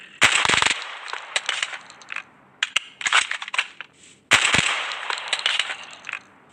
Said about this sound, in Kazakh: Мұны атып көрейік. Бұл бір оқтан атып көрсеткен.